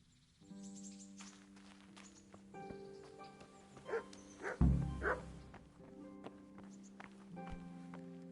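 Dogs bark and whimper in Kingdom Come: Deliverance, a few short, sharp yelps and woofs over a low droning ambient music bed, with scattered footsteps nearby.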